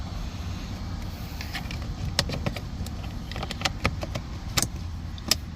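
A plastic cabin air filter cover on a 2005–2012 Toyota Avalon is pushed into place. Several short, sharp clicks and taps are heard close up over a low hum, with no talking.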